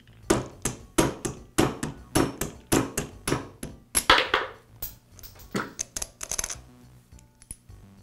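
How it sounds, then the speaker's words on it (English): A rubber mallet taps a sleeve bearing out of a DeWalt drywall screwdriver's clutch housing, making a close series of sharp knocks. The blows come in a steady rhythm at first, then turn lighter and more irregular. "Now I'll use a rubber mallet to tap the bearing free."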